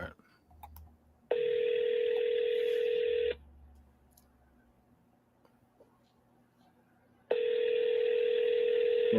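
A telephone call goes out with two long steady ringback tones separated by a few seconds of quiet line, preceded by a brief burst of dialing clicks and faint background noise.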